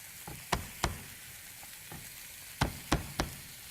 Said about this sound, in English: So I'm just going to give this a quick kind of mash.